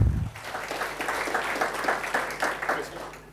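An audience applauds steadily at a corporate technology presentation about HP desktops, a dense, even round of clapping that carries on throughout after a brief opening noise.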